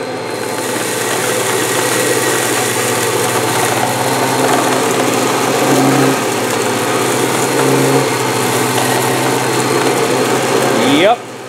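A Kirby G3 vacuum cleaner with a 7-amp motor runs steadily up close, a loud, even motor whine and airflow rush that holds throughout before cutting off abruptly at the end.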